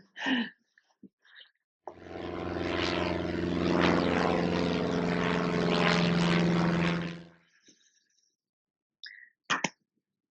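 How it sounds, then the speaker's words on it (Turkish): A jet airplane passes overhead in Eskişehir, a steady loud roar that swells in for about five seconds and then cuts away, with a few faint clicks before and after. "Ne zaman video çekmeye karar versem uçak geçmeye karar veriyor."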